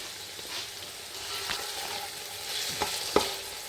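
Onions frying in oil on medium heat for mutton chaanp karahi, a soft steady sizzle with a few sharp scraping stirs of a spoon against the pan near the end, with no talking.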